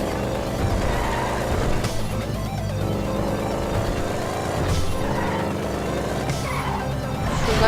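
GTA 5 car engines roar and whoosh with rising nitro boost surges, tires squealing, amid busy in-game racing noise.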